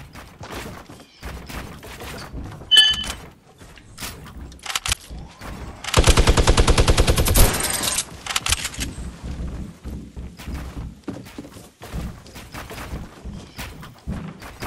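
Video game gunfire: a dense, loud automatic burst of about a second and a half stands out among scattered single shots and footsteps.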